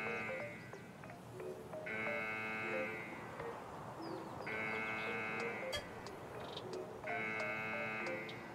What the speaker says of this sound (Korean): 자, 이제 알람벨을 울렸죠?